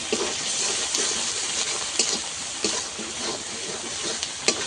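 A little water poured into freshly ground spice paste of cumin, chili and salt in a pan while cooking fish, making a brief sizzling, splashy wash with a few sharp clinks, close and fairly loud, with no voices.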